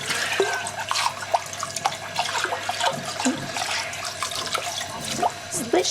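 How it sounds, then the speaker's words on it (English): Kitchen sink tap runs as something gets a quick rinse, a steady close water stream with small splashes and clinks, while a voice speaks faintly underneath. "I'll just do a quick rinse."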